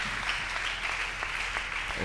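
A church congregation applauding during a service, steady sustained clapping from many hands filling the room at an even level throughout.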